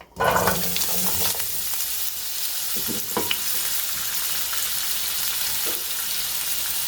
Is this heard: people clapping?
no